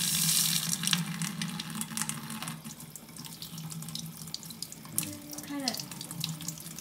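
Water streams steadily from a newly installed kitchen faucet into the sink, a continuous rushing flow that shifts slightly in pitch as the cold setting is adjusted, with no talk over it.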